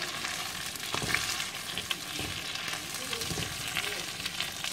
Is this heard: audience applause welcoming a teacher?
no